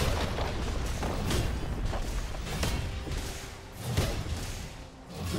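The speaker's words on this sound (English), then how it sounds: "Red Team's turret has been destroyed." A League of Legends tower collapsing in a top-lane match, heavy booming thuds and rumbling impacts rolling over a dense, busy game mix with whooshes, loud and continuous for several seconds.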